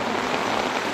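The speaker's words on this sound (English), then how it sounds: "It's raining hard." Heavy rain pounds steadily on a tent during a camping trip in a state natural area, a dense, close, continuous patter with no voices.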